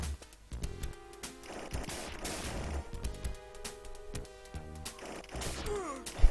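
Rapid gunfire and blasts from shooting enemies in the Cyber Police ESWAT arcade game, layered with electronic music and tonal effects, bursts of shots repeating in quick succession.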